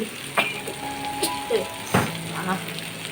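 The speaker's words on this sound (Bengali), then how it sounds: "এই চিকেন এই কষাচ্ছি" Chicken pieces frying in a pan, giving a steady soft sizzle, with occasional stirring scrapes and light knocks of a utensil close by, while a person talks over the cooking.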